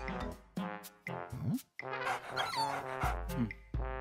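A dog whimpers, yips and barks in a rapid run of high, tonal cries with brief pauses, fairly close and fairly loud, with no talk over it.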